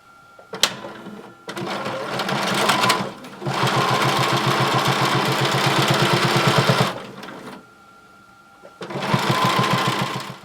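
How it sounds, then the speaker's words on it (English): A sewing machine stitches all the way around the folded hem of a circle skirt, running in steady rhythmic bursts of fast needle chatter with short pauses between, close and loud with no talking. "put one edge of your presser foot against the folded edge of your fabric. And you're going to just sew"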